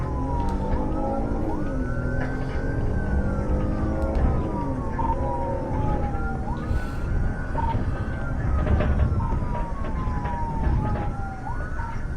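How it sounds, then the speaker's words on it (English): A police car siren wails steadily and loudly in rising and falling sweeps, continuous throughout, with traffic rumble underneath and no voices. "Turn the siren off, officer."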